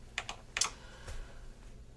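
Numbers are tapped on a lighting console keypad: a few quick, crisp button presses in an uneven rhythm, close and fairly quiet, with soft room tone between them.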